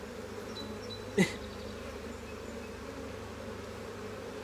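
Honeybees buzz during a beehive inspection of a brood frame, a low, steady hum of the insects running throughout, fairly faint, with one brief louder click or knock near the middle and no talking.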